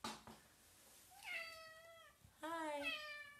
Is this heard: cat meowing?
yes